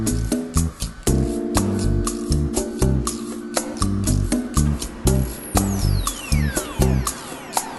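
A jigsaw chatters through Nidagravel plastic slabs in rapid, uneven bursts, the reciprocating blade rattling loudly and close with short pauses between cuts.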